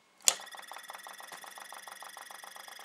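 A Bedini motor, a small pulse-driven magnet motor on a Meissner oscillator circuit, runs steadily with a rapid regular ticking pulse and faint whine after a sharp click at the start, close and moderately quiet.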